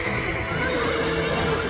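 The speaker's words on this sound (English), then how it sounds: "They all started stamping, whinnying, or kicking at their stalls." Several horses in stable stalls whinny and neigh continuously, loud and close, with stamping and kicking sounds mixed into a dense, unbroken din.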